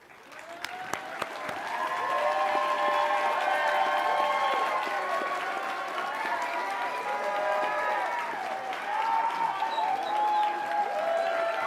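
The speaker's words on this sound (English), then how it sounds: "Graduates, if you just stand for one more round of applause." A graduation audience at Laughlin High School's 2021 ceremony applauds and cheers as graduates stand. The clapping is loud and sustained throughout, with crowd voices mixed in.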